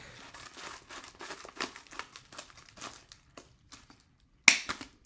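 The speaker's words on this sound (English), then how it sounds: "I'm just going to cut this open really quick" Plastic packaging being slit and torn open with a blade, a string of crinkly rustles and snaps building to one sharp rip near the end, close up and with no talking.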